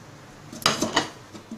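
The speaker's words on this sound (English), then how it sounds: "Slice the ginger thinly with a peeler." Thin slices of ginger shaved with a peeler in a home kitchen while stir-fried ginger and spring onion with pork is being prepared, a few quick close scraping and clinking strokes in a quiet room.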